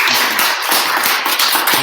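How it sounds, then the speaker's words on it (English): Audience applause at a talk in Conway Hall, a dense, steady wash of many hands clapping that fills the short moment without any voices. "Can we give him a round of applause?"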